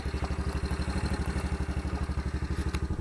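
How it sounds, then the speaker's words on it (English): An upgraded go-kart engine idles close by with a rapid, even pulsing chug and light mechanical clatter, steady throughout the short stretch with no talking. "Alright, I upgraded my go-kart here."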